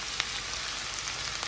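Chopped carrots and onions frying in a small amount of hot oil, giving a steady, close sizzle with no talking.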